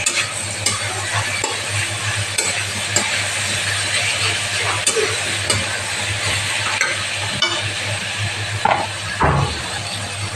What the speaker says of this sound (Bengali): এখন কাঁচা লঙ্কাগুলো দিয়ে দিচ্ছি আর টমেটোগুলো দিয়ে দিচ্ছি। এটা ভালো করে মিশিয়ে নিচ্ছি।